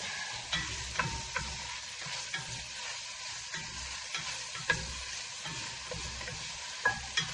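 Arugula sautés in a pan with a soft, low sizzle, broken by scattered taps and scrapes as the leaves are stirred and wilted, with no talking.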